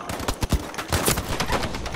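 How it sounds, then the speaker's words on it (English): Gunfire rattles in the Battlefield V open beta, a dense stream of sharp shots and short bursts crackling close and far with no pause. "you can hear like gunshots everywhere"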